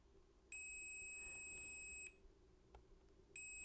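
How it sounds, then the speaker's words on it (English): Continuity beeps from a multimeter probing a short to ground on a Lenovo ThinkPad E15 backlight circuit: a sustained electronic tone for about a second and a half, a pause, then another beep starting, close and clear. "And if I put it on ground here, it beeps."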